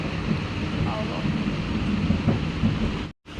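Heavy rain pours steadily with a dense, roaring hiss throughout, briefly cutting out near the end.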